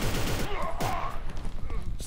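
Rapid gunfire bursts from a third-person shooter, Inversion, crackling over dense game noise and music, with a voice talking over the shots.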